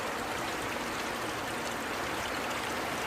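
Rainwater runs off a roof top into a collection container in a rainwater harvesting setup, giving a steady, dense, broadband rush of flowing water that holds constant throughout, with no voices.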